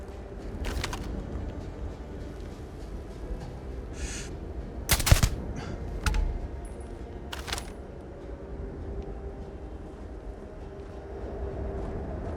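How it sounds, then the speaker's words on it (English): Rifle fire in the Starfield video game: a handful of sharp, separate shots spaced a second or two apart, one sounding louder and closer, over a low continuous outdoor ambience with no talking. "Let's get out our sniper rifle."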